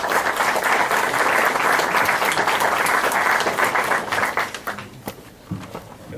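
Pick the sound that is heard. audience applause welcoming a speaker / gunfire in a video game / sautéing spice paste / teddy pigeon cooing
audience applause welcoming a speaker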